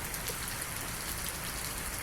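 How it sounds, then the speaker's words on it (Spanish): Steady rain keeps falling in an even, unbroken hiss of drops, moderately loud and constant throughout, with no voices. "No para de llover, ¿verdad?"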